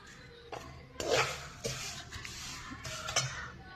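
Herbs and neem leaves roasting in a pan for a homemade herbal hair oil, heard as a few close scraping and clinking strokes of a spoon against the metal pan, with quiet gaps between them.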